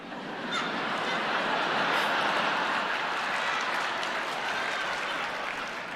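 The audience at the Olivier Awards 2022 ceremony applauds in a large theatre, with broad, steady clapping at moderate level that holds for the whole stretch and swells slightly in the middle.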